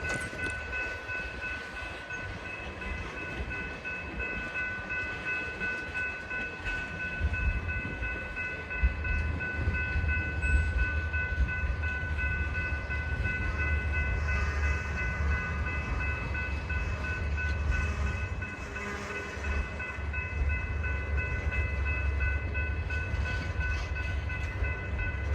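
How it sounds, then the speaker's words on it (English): A train runs along the rails, a steady rumble with wheel noise and a faint high whine that swells louder midway and holds, heard up close and alone. "Keep going, train. Keep going."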